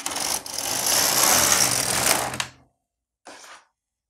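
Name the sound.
LK150 knitting machine carriage running to the left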